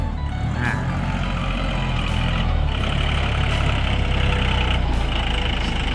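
Diesel engine of a 2019 Iseki NT540 Turbo tractor idling steadily, a continuous low rumble with even droning tone throughout, no talk over it.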